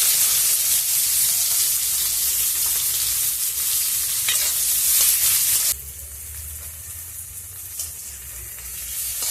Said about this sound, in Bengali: আমি এই যে কুচনো পেঁয়াজটা দিয়ে দিচ্ছি তেলের মধ্যে